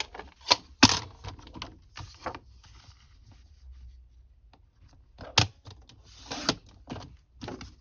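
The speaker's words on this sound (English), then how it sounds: "I'm going to cut off this piece, this last piece." Paper cut for a mini journal built from CD envelopes, heard as a few sharp, close snips and crisp paper rustles in irregular bursts separated by quiet pauses.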